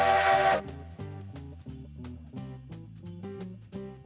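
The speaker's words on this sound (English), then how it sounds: "Whistle." A steam locomotive whistle in the Railroads Online game gives one short, loud, hissing blast at the start, then rhythmic tonal music plays on alone.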